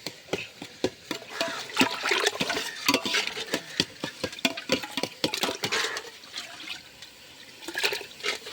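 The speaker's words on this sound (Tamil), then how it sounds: "இப்போ வந்து கோழிக்கால் வந்து அலசிக்க போகிறோம்." Water splashes and pours irregularly over chicken legs as they are rinsed, with choppy bursts and patter close to the microphone.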